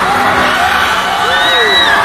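Concert crowd at a live band show in a stadium in Bacolod City, a continuous roar of shouting and whooping with some voices rising above, loud and unbroken.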